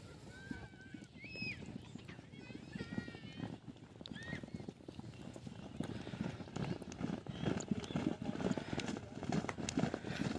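Two high-speed racehorses galloping in a village horse race on an open field, a rapid hoof clatter that builds and continues, with crowd noise and faint voices in the background.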